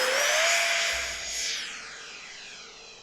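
A Habu SS 70mm EDF RC jet on 6S power makes a loud whining pass, a high turbine-like whistle that swells, then bends downward in pitch and fades as it flies away.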